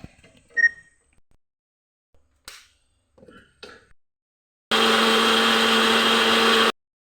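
A mixer grinder whirs loudly for about two seconds, grinding ingredients such as ginger into a paste for jackfruit biryani masala, after a few scattered clinks and handling noises.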